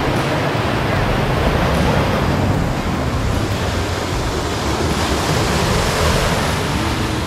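Sea waves washing in along a seaside esplanade in Antique, a loud, continuous surf roar with steady wind-like hiss and no clear breaks between swells.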